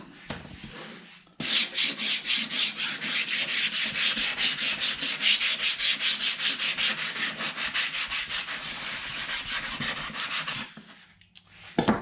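A rocket fin can edge is sanded by hand in steady rhythmic strokes, a loud rasping scrub repeated rapidly for about nine seconds, with quieter handling before and after.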